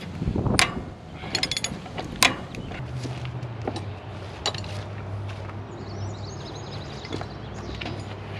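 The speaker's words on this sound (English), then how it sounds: "Try to use a dodo wrench on something." A ratchet wrench clicking on large 1 5/16-inch bolts, sharp metallic clicks and clanks at uneven intervals over a low steady hum.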